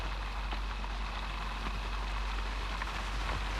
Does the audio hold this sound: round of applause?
no